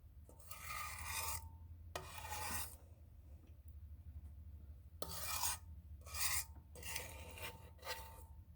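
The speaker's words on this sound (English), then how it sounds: "All I hear is scraping sounds." Repeated scraping of a utensil against a bowl or pan while making brownies, several rasping strokes of about a second each with short pauses, faint and close.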